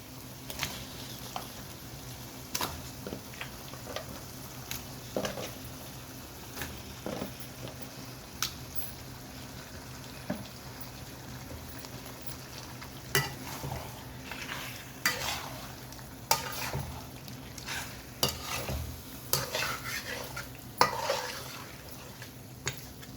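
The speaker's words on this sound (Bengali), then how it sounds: "এখন দিয়ে দিচ্ছি খাসির মাংসগুলো" Goat meat fries in a pan with a low, constant sizzle, broken by irregular scrapes and clacks as it is stirred, growing busier toward the end.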